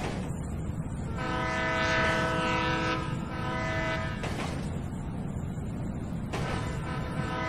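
A train rumbles past in the Grand Theft Auto V video game, loud and close, with a steady heavy roar, clattering wheels and a sustained horn-like tonal blare over the first half that returns briefly near the end.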